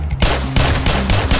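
Rapid burst of loud, sharp gunfire from a Model 29 revolver in a Roblox anime-world survival game, several cracks in quick succession under a dense, noisy game soundscape.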